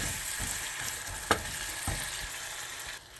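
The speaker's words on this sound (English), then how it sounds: "We're going to add the onions in and just saute those until they're nice and glistening" Onions sautéing in melted butter in a pan give a steady, close hiss and sizzle, with a few soft knocks from stirring and no voices.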